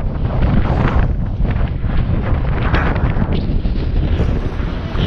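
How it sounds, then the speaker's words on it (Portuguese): Strong wind gusting around an airfield during a long trail run, a loud, continuous roar of buffeting microphone rumble that swells and eases without a break and drowns out everything else. "aqui estava muito vento, como podem ouvir"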